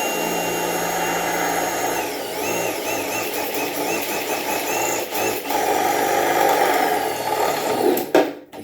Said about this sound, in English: You're supposed to drill slow through metal too.